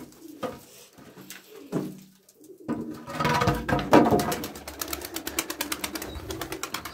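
An Arabian pigeon coos in soft, low throaty bursts near the microphone, then gives a longer rolling coo with some rustling and a quick run of rapid clicks at the end.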